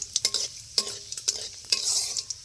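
Black cumin and dried chillies frying as a tempering in mustard oil, stirred with a utensil: a quick series of sharp scraping strokes over a light sizzle, close and fairly quiet, no talking.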